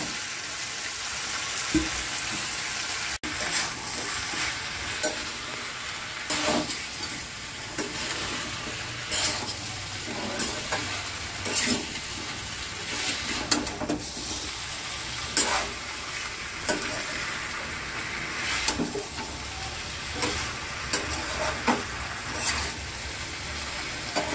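Catla fish head fries in a pan with boiled taro stolons, giving a continuous close sizzle broken by repeated stirring scrapes and clatters, with no talking.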